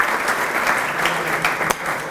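Applause from a seated audience at an evening Torah lecture in Petah Tikva, a steady wash of clapping lasting a couple of seconds with one sharper clap near the end.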